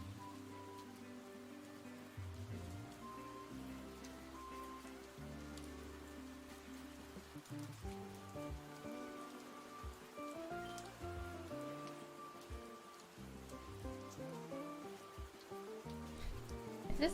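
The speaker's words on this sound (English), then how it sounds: "Is this like ambient rain sounds?" Soft ambient rain patters steadily on surfaces, faint and continuous beneath a low, slowly shifting musical drone, with no voices.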